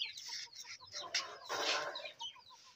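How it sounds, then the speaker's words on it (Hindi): A rooster clucks repeatedly in short bursts, fairly close, with a busier flurry of calls in the middle and no talking. "ये हमने कल मुर्गा खरीदा था"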